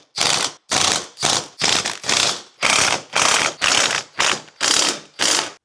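A ratchet wrench tightens the bolts holding the bumper bar onto an Audi car, about eleven loud, close bursts of rapid clicking separated by short pauses.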